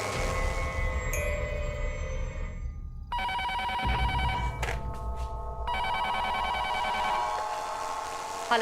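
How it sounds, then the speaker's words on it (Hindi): A telephone bell rings in repeated bursts with short pauses between, loud and near, over a low background hum. "प्रीति का फोन आएगा"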